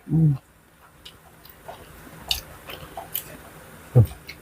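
Wet, squishy bites and soft chewing of jellyfish eaten with dipping sauce, close to the mic, with a few sharp bites among quieter mouth sounds.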